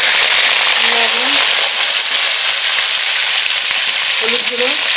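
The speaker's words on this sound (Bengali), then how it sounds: "আলু খুব ভালো করে ভেজে নেব" Cut potatoes with salt and turmeric fry in mustard oil in a wok, a loud, continuous sizzle with crackling and faint stirring scrapes throughout.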